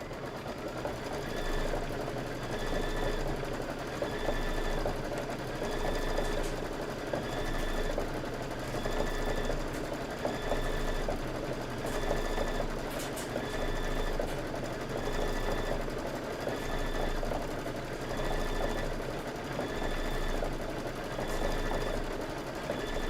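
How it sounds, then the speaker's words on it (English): A sewing machine runs steadily through quilting stitches on fabric layered over batting, its fast, even motor hum and needle rhythm continuing loud and unbroken throughout with no talk. "Just hit your start button, and now you are going to do your quilting."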